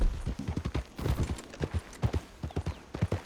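Horse hooves gallop in Red Dead Redemption 2, a quick, steady clip-clop of close, distinct hoofbeats repeating without pause over the whole stretch.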